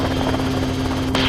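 A helicopter in flight near an airfield tower, its rotor thudding in a loud, steady pulse for the whole moment, with a brief click near the end.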